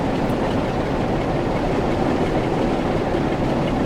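A train passing in the railway simulator Train Sim World 6 on the Preston to Carlisle line, a loud, close, continuous rumble with rolling wheel noise filling the whole moment.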